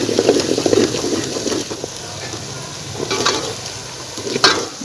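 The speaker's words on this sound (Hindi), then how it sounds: "दो मिनट के करीब हमने लहसुन डाल के भूनना है इसे।" Garlic frying in a pan for restaurant-style chicken korma, a steady sizzle broken by scraping stirring strokes near the start and again toward the end, close and alone with no talk.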